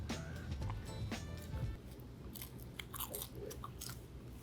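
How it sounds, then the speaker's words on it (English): Crispy Peking duck skin gets bitten and chewed close up, giving several crisp crunches followed by softer chewing and mouth sounds, all fairly quiet, with no talking. "I hope you can hear that crunch."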